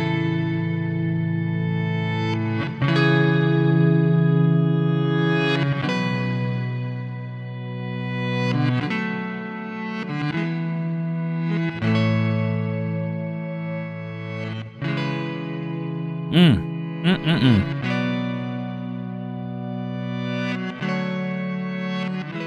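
Electric guitar chords drenched in reverb and modulation, ringing out and decaying into one another, with a brief warbling burst midway; no voices.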